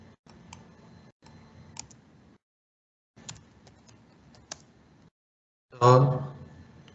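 Scattered bursts of keystrokes on a computer keyboard while typing C code in VS Code, short clusters of clicks separated by pauses, ending with a louder thump.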